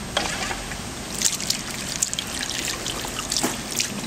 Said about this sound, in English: we're going to start running water on it